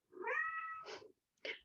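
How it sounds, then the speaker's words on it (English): A house cat lets out a loud, drawn-out meow close by, followed after a short pause by a brief second mew, with no other sound around it. "Apologies for my cat."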